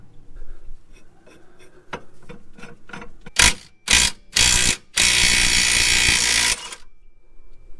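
A ratchet with a socket being worked to remove the HICAS ball joint on a Nissan R34: a run of quick ratcheting clicks, then several loud bursts and one long sustained grinding burst, close up.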